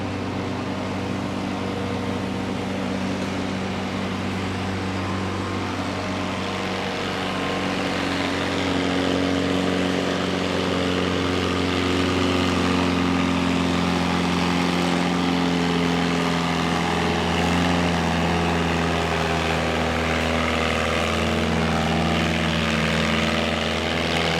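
An Allis-Chalmers WD stock tractor makes a pull on the track at a Langford, New York pulling event, its engine droning hard and loud, then rising and straining as the run continues, with no voices over it.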